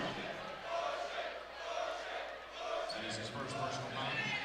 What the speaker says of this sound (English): the SAU crowd maybe a little rowdy here